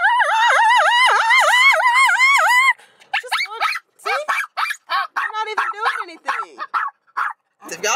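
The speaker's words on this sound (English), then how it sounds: "He barks at every single thing." A dog barks and yips excitedly, first in a loud, sustained wavering run, then in a string of sharp, close, irregular barks separated by brief gaps, with no talk.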